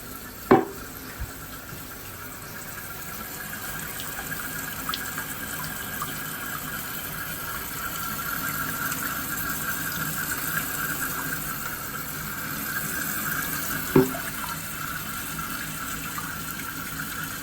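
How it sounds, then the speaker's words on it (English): Toilet fill valve refilling the tank, a steady hiss of running water in a bathroom, continuous and moderate, with a couple of sharp knocks near the start and again toward the end. "the valve itself is filling up the tank, and this hose is to fill the bowl"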